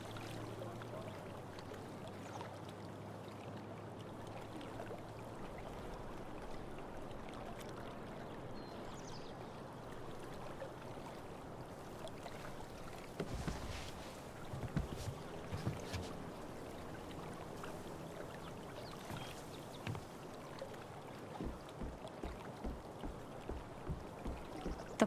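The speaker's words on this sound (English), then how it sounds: "If not for the paddling, kayaking would be super relaxing." A kayak glides across calm water in Life is Strange: True Colors, soft lapping and flowing water under a quiet ambient bed, with a run of rhythmic paddle splashes growing clearer toward the end.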